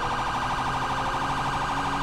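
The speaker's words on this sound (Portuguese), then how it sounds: "Liga a sirene, pô." Police car siren in GTA 5, a steady loud wailing tone that cycles continuously and dominates the whole stretch with no talk over it.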